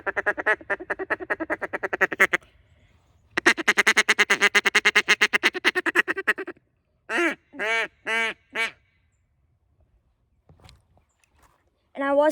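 A Duck Commander Shadow duck call is blown in a rapid string of quacks, a pause, another fast run, then several separate drawn-out quacks and a final short blast, loud and close.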